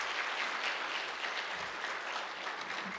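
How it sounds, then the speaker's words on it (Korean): A church congregation at a revival meeting claps in thanks as the pastor is welcomed back, producing a soft, steady, evenly sustained patter of many hands with no speech over it. "감사의 박수를 드리며 우리 목사님 다시 한번 모시겠습니다"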